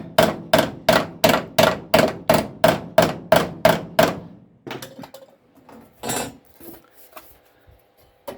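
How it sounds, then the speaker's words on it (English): A hammer taps a Ford Escort MK1 body panel in a steady run of about a dozen sharp, ringing strikes, followed by a few scattered, quieter knocks and clatters. "get a hammer on that to give that a tap in."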